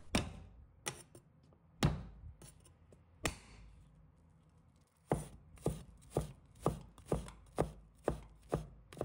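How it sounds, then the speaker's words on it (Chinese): Garlic being minced with a kitchen knife on a cutting board, heard as sharp chopping taps: a few irregular strikes at first, then a steady rapid run of close, crisp knife hits with no talking. "再准备1把大蒜，把它切成末。"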